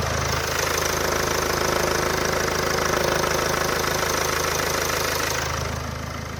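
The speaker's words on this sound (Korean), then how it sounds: "엔진음도 한번 들려드릴게요." A Land Rover Discovery SUV engine idles with a steady, even, continuous rumble, close by, with a faint mechanical ticking running through it and no voices.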